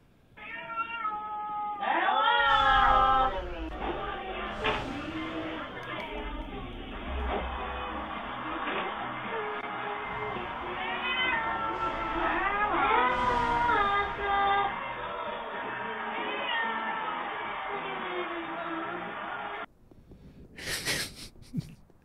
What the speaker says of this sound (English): When your cat says hello and announces his arrival every time he comes through the cat flap